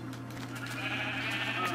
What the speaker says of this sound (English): No sheep, you don't want to go there.